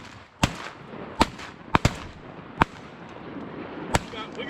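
Shotguns fire at waterfowl during an inland North Carolina duck hunt opener, six loud sharp blasts in an irregular barrage over about four seconds, close and echoing.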